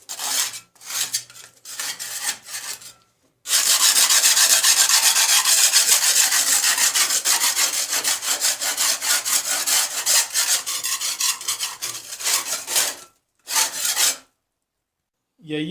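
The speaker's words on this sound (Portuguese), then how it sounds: "Vou raspar para depois colocá-los aqui." Hand scraping across a wall surface being prepared for tile, a steady loud rasping run of about ten seconds, preceded by a few short scrapes and followed by brief strokes, with no talking.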